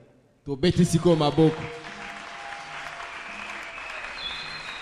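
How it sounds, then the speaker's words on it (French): A congregation at a church service applauding, a dense wash of clapping that starts after a short shouted voice and carries on steadily under the room's echo. "Acclamez."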